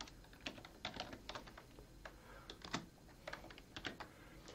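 Typing on a computer keyboard, quiet close-up key clicks in uneven bursts and single taps over a few seconds, with no voices.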